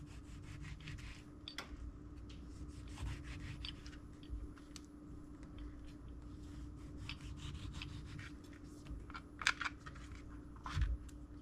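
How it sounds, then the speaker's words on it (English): A knife saws and chops through a tomato on a board in short, repeated strokes, close and fairly quiet, with a low steady hum underneath. "I'm just going to dice up this tomato"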